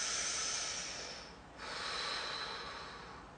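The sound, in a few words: breathing in through the mouth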